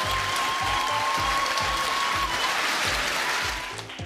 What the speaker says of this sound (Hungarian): Hatalmas tapsot kérek nekik.